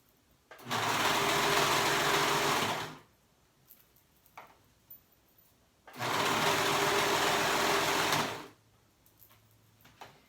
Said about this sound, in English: Make sure you're going slowly so you catch all those gathering stitches.